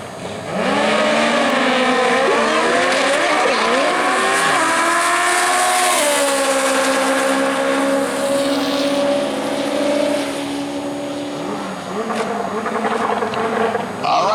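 Loud, close drag racing launch at Worldwide Technology Raceway, with engines screaming and sweeping up in pitch as cars pull hard down a rough track, a sustained roar filling the whole stretch with no talk over it.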